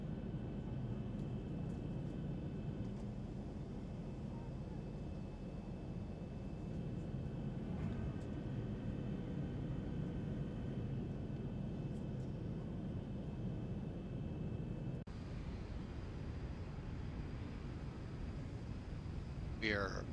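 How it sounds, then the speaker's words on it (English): Flaps running out on a simulated ZIBO Boeing 737-800 in X-Plane 11 on approach, heard as a steady, loud cockpit rumble and whine that shifts in tone about three quarters of the way through. "Running out the rest of the flaps."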